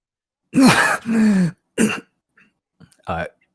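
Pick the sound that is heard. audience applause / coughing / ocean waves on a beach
coughing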